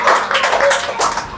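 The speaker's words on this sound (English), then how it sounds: "Claps for Felicia." Applause from the audience at a school English spelling bee, a sustained crowd of clapping hands that stays steady and fairly loud with slight swells throughout.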